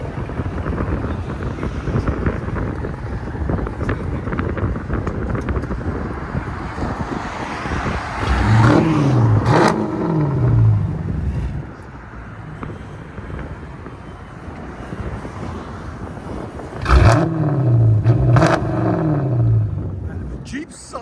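Jeep Grand Cherokee 5.7L HEMI V8 on straight pipes, loud and close: two sharp rev bursts rise and fall over a steady rumbling idle, with brief talk during the quieter stretches.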